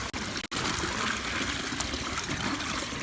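Floodwater trickles and flows steadily through a residential yard beside a plugged catch basin, a continuous close watery rush with a brief break near the start and no talking.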